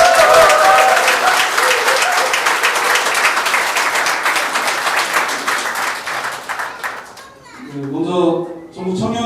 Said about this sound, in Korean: 강원도당 당원 여러분들의 뜨거운 함성과 격려의 박수로 시작하도록 하겠습니다.